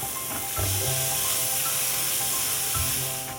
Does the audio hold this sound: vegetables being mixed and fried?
yes